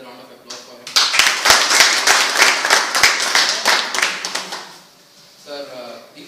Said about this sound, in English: Let's start with a round of applause for him.